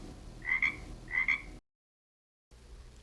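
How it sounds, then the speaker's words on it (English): A frog croaks twice in quick succession, two short raspy calls close and clear, followed by a brief silence and a low background hum. "A frog makes this sound."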